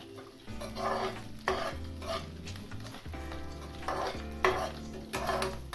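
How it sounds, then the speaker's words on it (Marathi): Small peeled potato pieces sautéing in oil for peanut chutney, a soft sizzle under repeated scraping strokes of a spoon against the pan, fairly quiet and rhythmic. "ते बटाटे कोतरले आणि छोटे तुकडे केलेले आपण त्यामध्ये टाकतो आहोत आणि ते पण ह्या तेलामध्ये व्यवस्थित परतून घेऊया"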